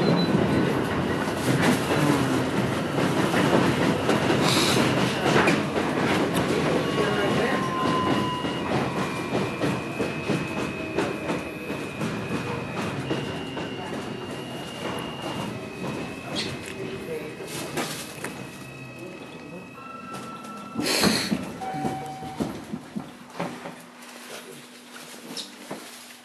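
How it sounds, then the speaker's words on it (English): A New York City F local subway train near 18th Avenue rumbles along with clattering wheels and occasional squeals and hums, loud at first and gradually easing, with brief voices in the background. "This is a Church Avenue bound F local train."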